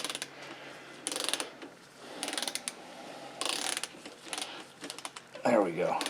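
A ratchet clicks in several short bursts while tightening a bolt on a Kohler Command V-twin engine, close and fairly quiet, with a brief rougher scrape near the end.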